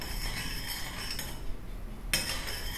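A spoon stirs kuzu tea in a pot over medium-low heat, giving a steady scraping and light clinking close up, with a sharper knock near the end and no talking.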